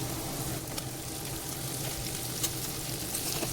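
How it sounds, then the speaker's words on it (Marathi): Fish pieces go into hot oil with a fried ground masala paste and tomato in a pan, giving a steady, close sizzle and crackle with faint stirring taps throughout and no talking. "आता यामध्ये मी मासे ॲड करते."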